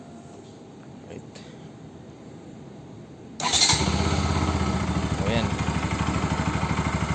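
A Kawasaki Rouser NS 200 FI ABS motorcycle engine starts after a few seconds of quiet, then settles into a steady, close, fairly loud idle with a regular pulsing throb.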